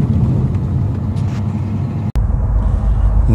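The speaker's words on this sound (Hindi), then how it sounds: "ये हैं जो गाड़ियां जिनकी मैं बात कर रहा हूं, जो बहुत ही रेकलेस ड्राइविंग करते हैं।" Vehicles rumble past on a narrow mountain road with blind curves, a loud, close engine drone and road rumble filling the short stretch, broken by one abrupt cut.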